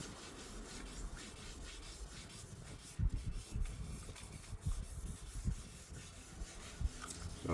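A car body panel is wet sanded and polished by hand, giving steady close rubbing and rasping strokes with a few sharper scuffs and no talk.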